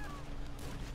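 Shotgun fire in a first-person video game, a dense, booming blast filling a short moment, with voices mixed in.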